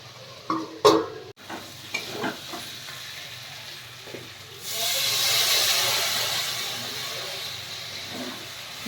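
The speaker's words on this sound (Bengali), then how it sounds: "জল দেওয়া হচ্ছে" Water is poured into a hot pan of chicken curry, setting off a loud burst of steamy hissing and sizzling that rises suddenly after a few quieter clinks and stirring sounds, then holds steady.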